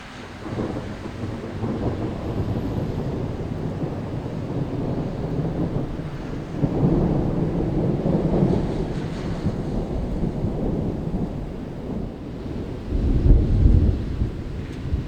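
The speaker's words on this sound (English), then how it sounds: "I love thunder and lightning." Heavy rain pours during a thunderstorm in Tennessee near Nashville, with a dense, loud, continuous roar and deep rumbling swells that rise around the middle and near the end, and no voices.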